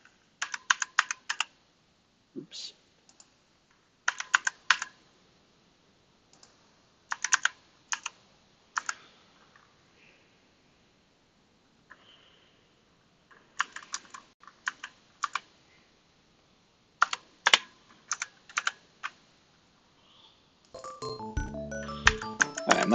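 Computer keyboard typing in short bursts of quick clicks separated by quiet pauses, with a single brief spoken word and a dense burst of sound at the end.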